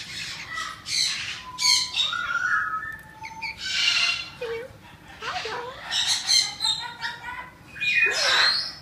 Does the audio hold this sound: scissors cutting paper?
no